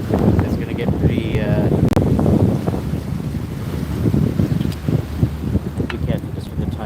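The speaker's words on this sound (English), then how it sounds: "So you've got two Uber boats coming up here and then a barge." Two Uber passenger boats and a barge pass on the river, their engine rumble and wash heard amid gusty wind noise and lapping water, with people talking nearby.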